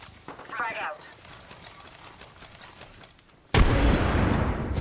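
A frag grenade in Apex Legends detonates with a sudden loud blast that keeps rumbling. Before it, a quieter stretch of game sound with scattered shots and some voice chatter.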